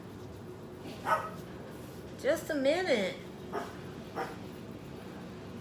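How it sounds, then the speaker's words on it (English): A few short dog barks and yips, moderately close, with a person speaking briefly between them. "They're barking for me to let them outside."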